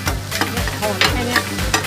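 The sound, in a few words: frying oyster omelette in large pan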